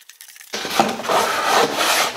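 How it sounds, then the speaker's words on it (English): A blade scraping inside a Thien baffle dust separator, a loud, close, continuous rasping scrape starting after a brief silence. "I think I'm going to have to scrape it with a blade."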